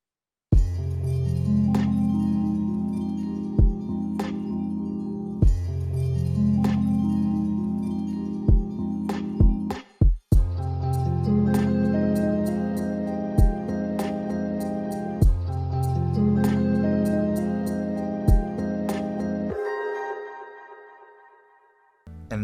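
A self-made music beat plays loud and alone: a steady drum pattern with regular hits under a layered melody doubled at the octave, with a brief pause near the middle and a bass-heavy drop before the end.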